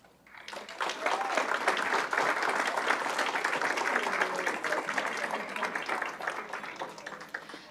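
Sustained audience applause at a school district board meeting honoring the boys and girls water polo team, dense clapping from a roomful of people that swells quickly and holds steady throughout.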